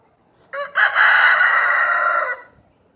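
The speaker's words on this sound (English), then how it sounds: "Here you go, chickies." A rooster crows once, loud and close, in a quiet henhouse, a single drawn-out call of about two seconds against near silence.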